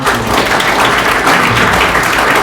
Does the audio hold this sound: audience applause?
yes